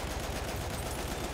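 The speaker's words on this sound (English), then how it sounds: "My favorite support is the Lewis gun optical. It gets more steady as you fire it." Lewis gun firing in Battlefield 1, a short unbroken burst of rapid automatic shots in a steady rhythm, loud and close.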